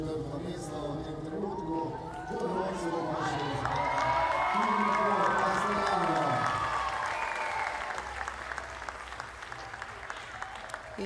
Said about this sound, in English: You hear the crowd cheering